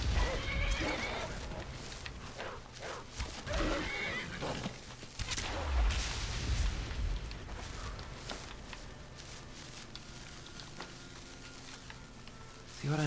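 A horse in the video game Skyrim whinnies and snorts repeatedly amid clip-clopping hooves and game noise, loud and close, with a voice speaking at times.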